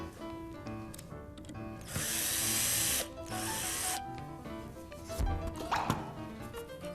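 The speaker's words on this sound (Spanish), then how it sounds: "Y allí vamos a perforar la placa y vamos a colocar un tornillo." Power drill boring a hole through a laminated furniture board, with a sustained loud whirring burst followed by a second shorter run, plus clunks of handling around it.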